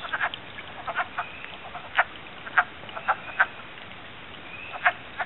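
A chorus of wood frogs at a vernal pool gives scattered quacking clucks, some close and sharp, others fainter, spaced unevenly over a steady background hiss.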